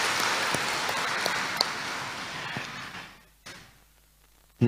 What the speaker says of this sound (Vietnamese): chúng ta chào chúc nhau một tràng vỗ tay tạ ơn Chúa trong suốt một năm qua